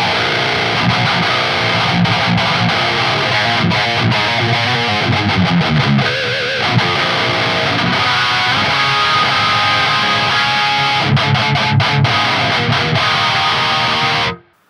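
Distorted metal guitar through an STL Tonehub PVY Vector preset with a boost engaged, tight chugging riffs and sustained chords played loud and steady before cutting off abruptly at the end.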